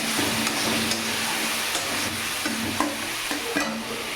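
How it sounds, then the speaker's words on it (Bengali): Masala of cumin, ginger, salt and turmeric with tomato and green chilli sizzles in a pan for a fish curry, a loud constant frying hiss under rhythmic clinks and scrapes of a stirring spoon. "টমেটো কাঁচা লঙ্কা দিয়ে মশলাটাকে ভালো করে কষিয়ে নেব"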